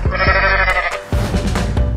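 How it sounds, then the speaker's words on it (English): A goat bleats loudly and close, two strained, quavering cries in quick succession. "Goat."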